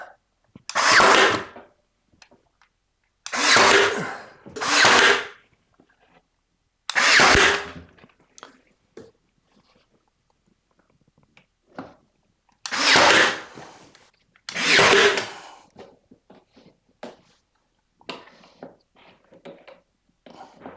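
A Ryobi AirStrike 18 gauge brad nailer drives brads into wood in sharp, loud bursts, about six shots in irregular pairs, with quiet handling clicks between them.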